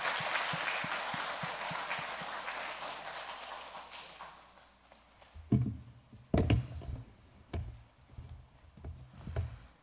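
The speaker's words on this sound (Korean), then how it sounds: "큰 박수로 환영해 주십시오" A church congregation applauds during a Sunday service to welcome a missionary, with dense clapping for about four seconds that fades into a few scattered, louder thumps and knocks.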